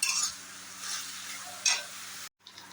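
Onions sizzling in a pan for a mutton curry, soft frying hiss with light clinks of a spoon stirring, quiet and close with no talking.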